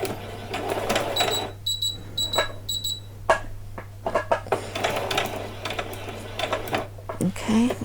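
Home sewing machine stitching ribbon onto an old dress on a long stitch setting, running in short mechanical bursts with pauses and clicks between, fairly close.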